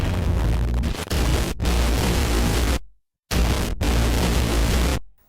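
Fighter jets in the video game Battlefield 3 roar past in loud, broadband bursts, cut by abrupt gaps of silence between them, like fast edited flyby sounds.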